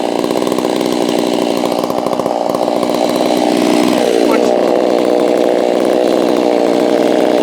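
A Holzfforma G660 chainsaw, running poorly, holds a loud, steady, buzzing idle close by, its pitch dipping briefly midway, with a voice speaking faintly beneath the engine.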